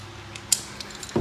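A ratchet wrench fitted with a 17 mm socket tightens a castle nut during assembly of a Venom 1500W E-Grizzly electric ATV, giving a few quiet mechanical clicks and one sharper snap, close and faint with no talking.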